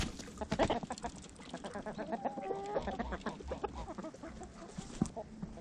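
Chickens cluck and squawk repeatedly around a farm enclosure, with one bird's agitated calls rising clearly over the background, and geese and ducks nearby.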